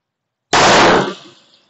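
A single loud pistol shot fired indoors into ballistic gel with Golden Saber ammunition, a sharp blast after silence followed by a short ringing room tail.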